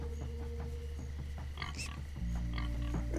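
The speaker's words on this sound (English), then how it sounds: "Stupid pigs." Pig grunts and oinks from the video game Minecraft Story Mode, several short snorts over steady game ambience and background music.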